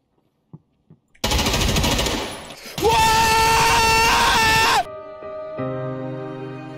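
Gunfire in Escape from Tarkov, a few sharp single shots followed by sustained loud automatic bursts, with shrill tonal ringing layered over the firing before it cuts to a quieter tonal hum.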